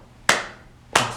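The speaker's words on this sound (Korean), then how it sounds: "박수를 같이 치는 거야." Two sharp, close hand claps, about two-thirds of a second apart, each ringing briefly in a quiet room.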